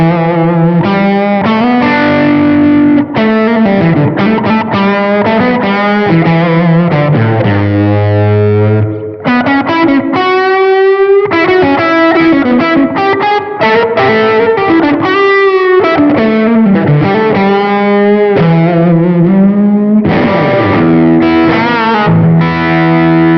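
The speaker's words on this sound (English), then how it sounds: "the wrench fuzz." An electric guitar played through an OCE Wrench fuzz pedal into an amp, giving a buzzy, heavily fuzzed tone with chugging chords and sliding lead phrases, loud and close with no speech.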